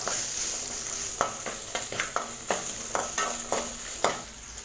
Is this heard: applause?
no